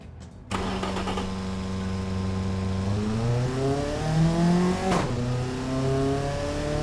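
A small, fast car in the Automation car-design game fires up with a loud engine start, then revs through rising and falling pitch sweeps with a sharp pop midway, heard alone without talk.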